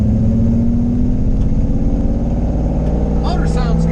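A 1968 Ford F100 pickup with a Coyote engine runs loud and close with a rhythmic, throbbing drone and slight revving, a faint rattle near the end.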